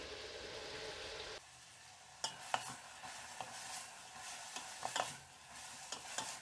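Onions and carrots sauté in a pan while being stirred, a soft low sizzle with occasional scraping knocks of the spoon, quiet and close, no talking.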